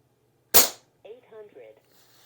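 A single sharp shot from an Umarex Gauntlet 2 air rifle fired in a backyard, a loud close crack that decays quickly, followed by faint talk.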